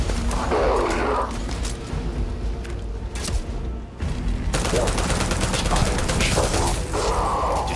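Rapid automatic gunfire from a modified gun in the video game Starfield, dense sustained bursts with mechanical clatter, broken by a brief lull before firing resumes.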